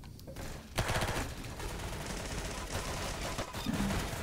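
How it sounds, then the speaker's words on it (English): Grenade launcher shots in the Roblox shooter Arsenal, a sharp burst near the start followed by a continuous stretch of rumbling blasts and gunfire, loud and close with no talking. "Let's get that grenade launcher going there."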